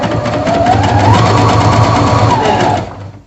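A sewing machine runs in one steady, loud burst for about three seconds while test-stitching after a presser foot change, with a whirring motor and rapid needle rhythm, then stops abruptly. No voices are heard.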